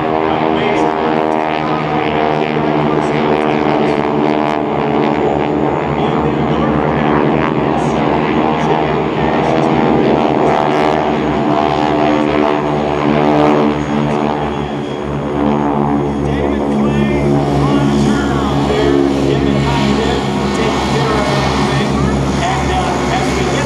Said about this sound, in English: We're turning the C-17 inbound.